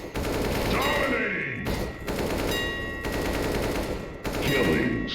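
Bursts of automatic rifle fire in a CS:GO recoil-training map, with AK, M4A1-S, MP9 and MAC-10 weapons, come in several sustained volleys separated by brief gaps, loud and close.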